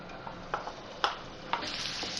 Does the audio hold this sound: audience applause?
no